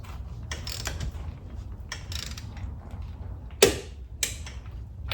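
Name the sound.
Capri split beam torque wrench tightening lug nuts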